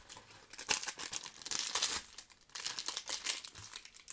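Crinkly plastic packets of collectible toys being handled and torn open up close, in irregular bursts of rustling and crackling with short pauses between.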